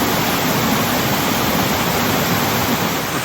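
A waterfall below Peruvian ruins pours with a steady, broad rushing roar, dense and unbroken from start to finish with no voices over it.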